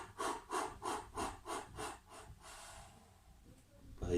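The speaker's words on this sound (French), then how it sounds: "Mais vous soufflez saccadé." Someone does a breathing exercise, blowing out in a series of about seven short, jerky, staccato exhalations, close and evenly spaced, before the breath trails off and a fresh inhale begins.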